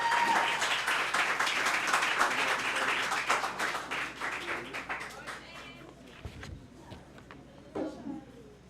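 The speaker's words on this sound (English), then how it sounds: "Give a round of applause for him." A high-school debate audience at a World Wetlands Day event applauds the third speaker, a lively burst of clapping that thins into scattered claps and fades, with faint voices near the end.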